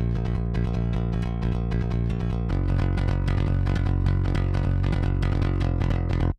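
Programmed pop-punk bass from a Submission Audio virtual bass instrument, played raw through a DI, as steady, fast, driving eighth-note picking with a thick, dry low end and a shift to a lower note partway through, loud and alone until an abrupt stop.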